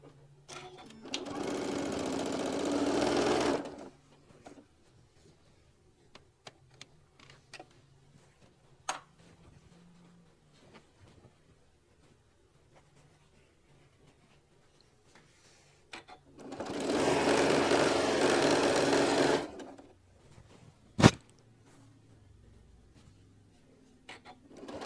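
A sewing machine stitches a quarter-inch seam in two separate runs of a few seconds each, close and steady, with quiet handling clicks and taps in the pauses between them.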